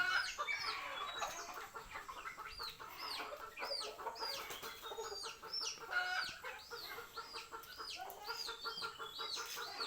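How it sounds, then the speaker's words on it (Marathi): Several chickens cluck and chatter continuously nearby while eating cabbage, a busy overlapping stream of short calls with light pecking and scratching underneath. "बघा आपल्या कोंबड्या कशा आवडीने कोबी खात आहेत"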